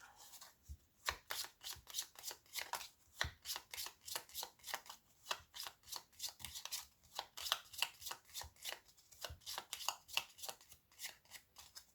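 Playing cards are shuffled again and again, a quiet, close series of quick riffling bursts repeating in a steady rhythm with no talking.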